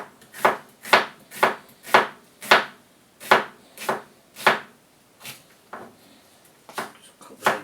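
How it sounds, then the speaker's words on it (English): Knife chopping onion on a cutting board in a home kitchen, about a dozen sharp, close knocks in a steady rhythm with a short pause midway, no talking. "Just cut the edges off as well."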